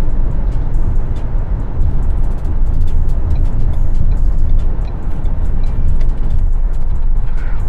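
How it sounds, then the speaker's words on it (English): A 2020 Ford Edge Titanium with all-wheel drive cruising on the road, a steady loud broadband road and engine rumble heard from inside the cabin throughout, with no talking. "This is a great running car."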